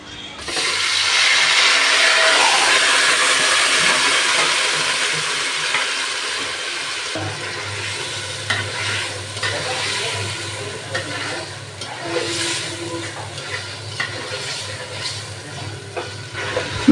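Mutton hits hot oil in a pan with cardamom, cinnamon and bay leaves, giving a loud rushing sizzle that settles into steadier frying with scattered pops and stirring scrapes.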